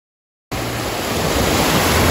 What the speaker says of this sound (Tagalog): So ito yung dagat.